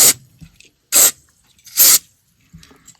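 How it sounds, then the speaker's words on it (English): Three short hissing bursts of electronic contact cleaner sprayed onto the tuning parts of a 1950 Philco 50-520 radio, spaced about a second apart, close and loud, with faint handling noise in between. "I'm just going to get some electronic cleaner."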